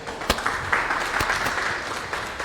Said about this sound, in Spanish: el doctor Martín de Acevedo, a quien lo recibimos nuevamente con un fuerte aplauso